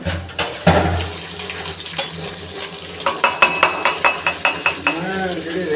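Onions sizzle in a pan while a utensil scrapes and taps the metal repeatedly in a quick rhythmic series, close and fairly loud.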